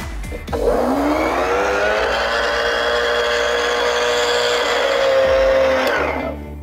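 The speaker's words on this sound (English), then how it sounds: "Now I'm going to just put this on and get it blitzed." A blender purees beetroot and coconut soup with fresh coriander, a loud, steady motor whir that holds for several seconds before winding down near the end.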